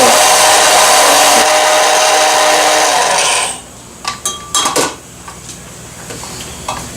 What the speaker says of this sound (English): we're going to use this little KitchenAid grinder and grind up the beans